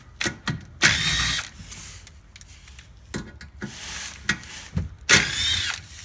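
Power tool whirring in short bursts while removing the four 10mm skid plate bolts under a Chrysler 300, loud close whines separated by clicks, rattles and metallic handling noises, with no talking.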